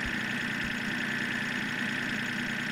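Renault tractor engine in Farming Simulator 2013, a steady idling drone with a constant hum and no change in pace, heard alone.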